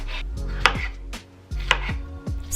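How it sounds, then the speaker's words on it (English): A knife roughly chops ripe strawberries on a board, a handful of firm, close thuds in an uneven rhythm with brief pauses, loud and clear with no voices. "I have 2 handfuls of ripe strawberries that I'm going to roughly chop into small pieces"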